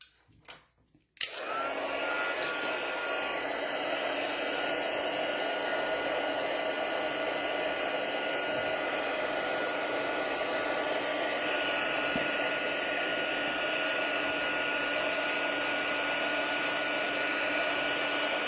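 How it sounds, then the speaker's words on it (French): A heat tool roars to life after a short click and runs steadily, a loud, continuous blowing whoosh and whine as it melts white embossing powder on stamped paper, with no other sounds. "Et on va chauffer la poudre blanche."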